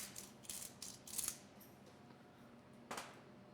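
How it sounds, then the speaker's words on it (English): A pepper mill cranks out fresh ground pepper in a home kitchen, giving a few short, close grinding bursts and a ratcheting rasp, then a pause before one last quick twist. "Add some nice fresh ground pepper."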